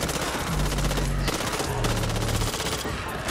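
Rapid automatic gunfire from the video game Back 4 Blood rattles continuously and loudly through the whole stretch, dense bursts layered over a low rumbling game soundtrack.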